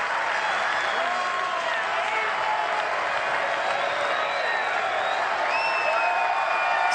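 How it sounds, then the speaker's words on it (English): A college baseball crowd at a Texas versus Tennessee Tech game applauds and cheers steadily throughout, a loud, dense wash of clapping with whoops and sharp whistles rising above it. "This crowd getting back into it now."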